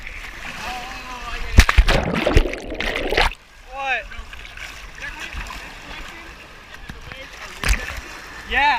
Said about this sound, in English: What are these waves?